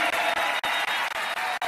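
Audience applause at a Brazilian political speech: dense, steady clapping from a crowd filling the whole moment, loud and close, with no speech over it.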